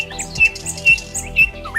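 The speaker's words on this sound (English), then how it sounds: "Just like the relaxing chirping bird." A small bird chirping alone: three or four bright, brief chirps spaced about half a second apart, close and fairly loud over a soft tonal background.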